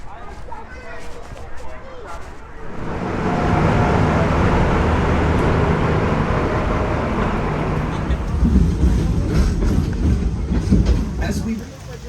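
The Wildlife Express, a small amusement park train at Disney's Animal Kingdom, rolls closer and rumbles past with a clickety-clack rhythm, growing louder midway while voices talk faintly in the background.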